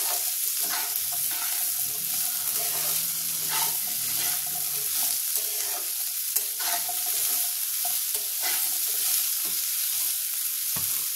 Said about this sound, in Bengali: এখানে হিংটা দিয়ে দেবো। এটা একটু নাড়াচাড়া করবো।